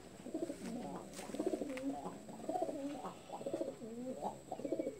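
Pigeons coo in repeated throaty, rolling phrases, close and steady, with several calls overlapping across the stretch and no talking.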